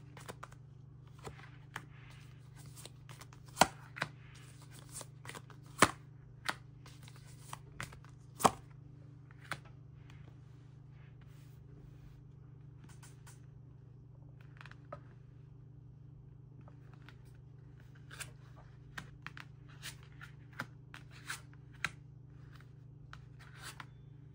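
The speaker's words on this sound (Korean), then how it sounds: "카드 제가 나열해 드릴 테니까" Tarot cards being shuffled and laid out on a table, scattered soft taps and brushing flicks at irregular intervals over a steady low hum, quiet and close, with no talking.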